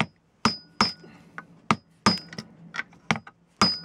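A metal bolt used as a punch is struck repeatedly with a hammer to drive a staple into the wooden base of a new Victor rat trap: about ten sharp, ringing metallic blows at an irregular pace, close and loud.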